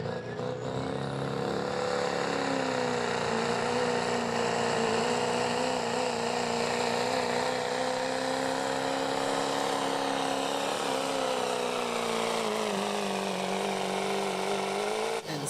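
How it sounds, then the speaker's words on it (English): A 2009 Ford pulling truck spools up its engine on a truck and tractor pull track, a loud continuous roar with a steady droning tone that rises and wavers as it runs down the track, ending abruptly. "He's going to be setting the mark to beat now in a 2009 Ford, getting it spooled up."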